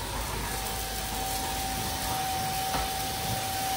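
A toy vacuum cleaner runs with a steady, even whir and a constant thin tone, continuous and fairly quiet throughout, with no voices.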